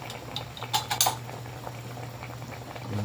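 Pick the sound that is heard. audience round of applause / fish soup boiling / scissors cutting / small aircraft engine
fish soup boiling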